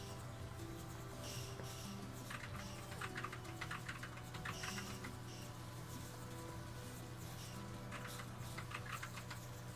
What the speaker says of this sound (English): You can actually hear me on my keyboard too